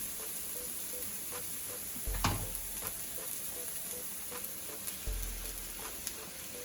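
Bok choy leaves sizzle steadily in a hot pan beside the cooking stems, a continuous crackling frying hiss with a few soft stirring clinks and two low thumps as leaves are tossed in.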